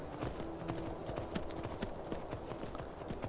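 Horse hooves clip-clopping in the Skyrim video game: a quick, steady run of light hoofbeats heard fairly faintly, with no voices.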